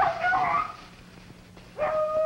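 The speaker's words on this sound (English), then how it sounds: "The rabbit, hearing the baying of the hounds, takes his time about moving." Beagle hounds bay and yelp while running a cottontail rabbit trail through thick cover, two bursts of loud, close baying separated by a quieter gap.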